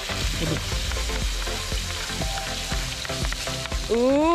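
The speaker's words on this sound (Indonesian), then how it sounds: "Panaskan minyak dan tumis bumbu sampai kecoklatan." Spice paste sautés in hot oil until browning in a home kitchen, giving a loud, steady sizzle and crackle that runs throughout, with faint musical tones alongside.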